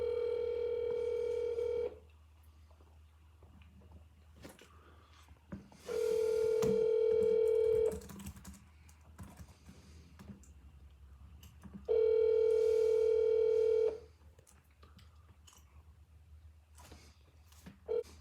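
Telephone dial tone during an outgoing sales call, sounding as three steady, loud tones of about two seconds each, separated by quieter stretches with faint background rustle and no speech.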